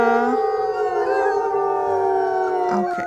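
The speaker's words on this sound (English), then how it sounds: "Okay, come on guys, no need to howl that much." A wolf pack's chorus howl in a video game: multiple sustained, sliding voices layered over one another, steady and close, with a brief higher yelping flourish toward the close.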